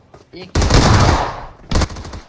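Battle royale video game gunfire: a long, loud automatic burst followed by a shorter second burst, close and harsh, with faint voice sounds just before.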